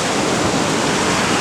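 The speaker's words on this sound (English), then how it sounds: "as the water comes down, it adjoins into this hopper" Water pours steadily down into a hopper at a mining wash site, a dense, continuous rushing splash like a small waterfall, loud and close with no talk.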